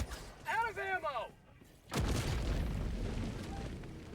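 Ultimatum launcher round exploding in Helldivers 2 during an Illuminate invasion: after brief voiced chatter and a quiet gap, a single loud boom hits and rolls out into a long, rumbling decay.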